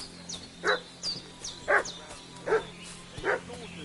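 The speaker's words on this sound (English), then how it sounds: "What's that dog making such a fuss about?" Dog barking in the video game Kingdom Come Deliverance 2, four or five distinct, evenly spaced barks at moderate distance over a quiet background.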